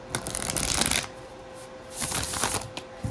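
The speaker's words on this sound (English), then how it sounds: "I don't know if I can shuffle it like this." Two quick bursts of tarot cards being riffle-shuffled, crisp and close, separated by a short pause, with a faint steady hum underneath.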